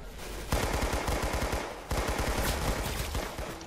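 Rapid bursts of automatic gunfire in the Roblox game Arsenal, loud and close, in two long volleys separated by a brief pause.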